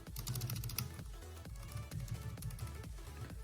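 Keys on a thin, lightweight Bluetooth keyboard for a tablet are typed in a steady run of close, crisp clicks. The pace is quick and even, with short gaps, and no voice is heard.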